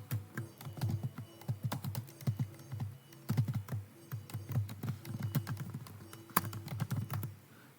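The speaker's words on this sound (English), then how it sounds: "just type in the email that you usually use" Fingers tap out an email address on a computer keyboard, a quick irregular run of close, crisp key clicks with brief pauses between bursts and no voices.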